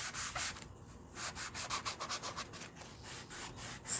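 Electric sander scuffs across painted wood to distress it, its edge rasping in a series of short rhythmic strokes, close and fairly loud, with no talking.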